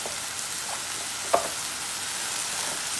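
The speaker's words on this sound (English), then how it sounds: "So you let these fry up and get this going." Steady, close sizzle of ingredients frying in a pan for vegan chili, a continuous hiss with one sharp tick of a utensil midway.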